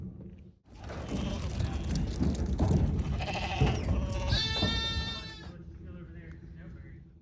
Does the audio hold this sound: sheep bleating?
yes